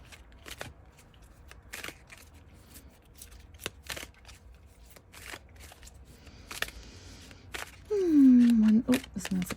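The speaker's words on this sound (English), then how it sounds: "I didn't pull all the cards." Tarot-style cards being pulled from a deck during a weekly manifestation reading: soft papery flicks and slides in scattered bursts, with a brief louder swish near the end, fairly close and quiet.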